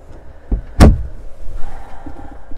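Shower door in a camper van opening, a short soft bump then a sharp thud or click, followed by faint rustling, close by and without talk.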